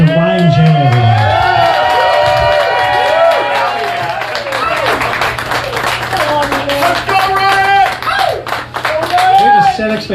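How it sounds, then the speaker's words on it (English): An open mic comedy night crowd claps, whoops and cheers loudly for about ten seconds as a first-time comic takes the stage, with shouting voices mixed into the sustained applause. "let's give a big round of applause to Ryan J. everyone."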